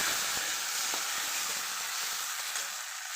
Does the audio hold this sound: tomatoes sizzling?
yes